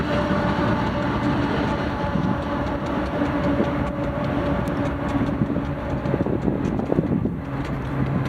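A long freight train rolls steadily past close by, its DPU mid-train locomotive among the railroad cars, giving a continuous loud rumble with wheel clatter and wind buffeting on the microphone throughout.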